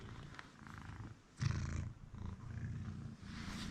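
A quiet, continuous low rumbling purr of a cat, close up, with a slight swell in the middle.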